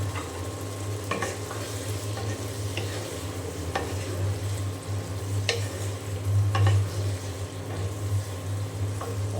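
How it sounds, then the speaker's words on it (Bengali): Potatoes being sautéed with spices in a pan for a pangas fish curry, a steady sizzle with spoon scrapes and clinks from stirring, beneath a constant low hum, no talking. "এখন মশলার সাথে আলু খুব ভালো করে আমি কষিয়ে নেব"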